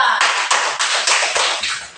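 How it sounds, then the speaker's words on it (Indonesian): Classmates applaud a student group in a classroom with a short burst of loud, close clapping that falls into a quick, regular rhythm of about six beats. "Tepuk tangan untuk kelompok 2"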